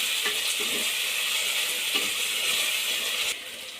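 A tablespoon of garam masala fries in a pan for green chicken biryani, giving a steady close sizzle with soft scraping stirs throughout.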